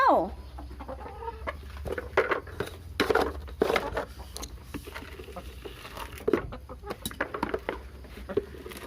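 Hens cluck and squawk repeatedly at close range during morning feeding, over a steady background hum, with brief sharp calls scattered throughout.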